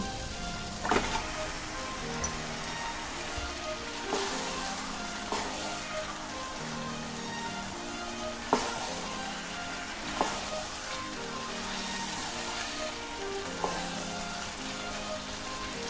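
Chicken pieces go into sautéed masala for chicken masala, giving a soft, continuous sizzle with occasional sharper knocks and scrapes of stirring in the pan, fairly quiet and without talk.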